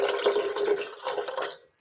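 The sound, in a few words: pouring water into food mixture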